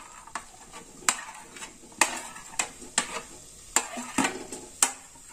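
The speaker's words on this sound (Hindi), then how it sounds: "सब्जियों को हम अच्छे से भून लेते हैं।" Potato, cauliflower, carrot, capsicum and peas fry in a pan while being stirred, giving a faint sizzle with repeated clicking spoon strikes and scrapes against the pan, about ten in quick irregular succession.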